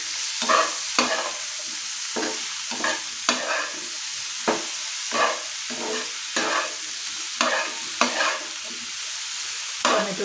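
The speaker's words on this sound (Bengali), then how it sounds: "এই টমেটোটাও আমি মিশিয়ে দেব।" Chopped tomato stirred into a frying masala in a pan, with repeated scraping spoon strokes over a steady sizzle, close and fairly loud, no voices.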